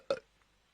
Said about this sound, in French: Il a fait un rot. Voilà, j'ai entendu.